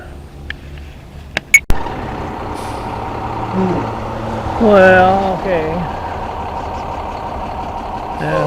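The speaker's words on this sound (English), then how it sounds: "There's a dump truck pulling a fuel tanker." A dump truck towing a fuel tanker rolls past on a Salt Lake City street, its engine rumble swelling mid-pass with an air-brake hiss, after a few sharp knocks and a brief spoken remark.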